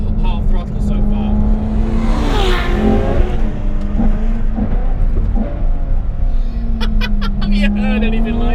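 A 770bhp Ferrari F12 TDF V12 revs hard and accelerates on a road, its loud engine note climbing and falling in repeated surges from close by, sustained throughout.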